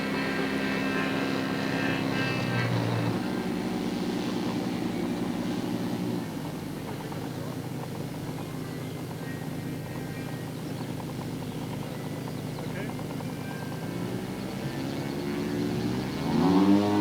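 Giant scale model pond racer airplane flying at a 1989 model meet, a steady engine drone heard from a distance over outdoor crowd noise, with the pitch rising near the end as it passes closer.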